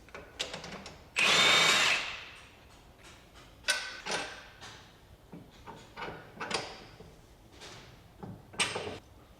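A power tool removes the strut-to-hub bolts on a 2016-20 Kia Sorento. It gives one loud, sharp whirring burst early on, followed by scattered quieter metallic clinks and clunks of handling parts.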